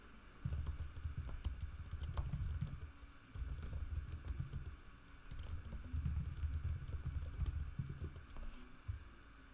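Steady typing on a computer keyboard while writing a note, continuous rapid key clicks over a low rumbling background hum, fairly faint, with no talking.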